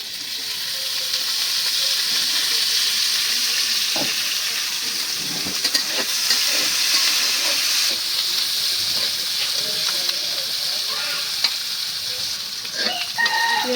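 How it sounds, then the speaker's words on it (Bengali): Onion frying in hot oil in a home kitchen, a steady, close sizzle that runs throughout, with scattered clicks and scrapes of stirring. "এখন দিয়ে দিলাম তেল পেঁয়াজ"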